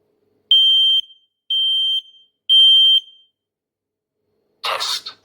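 An X-Sense combination smoke and carbon monoxide detector runs its alarm test, giving three loud, shrill, evenly spaced beeps in a row, followed after a pause by a brief burst of noise.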